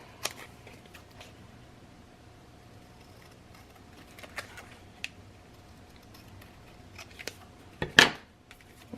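Scissors trimming paper for a removable craft pocket, heard as a few soft, sparse snips spread across the clip and ending in a louder, sharper cut. The setting is otherwise quiet.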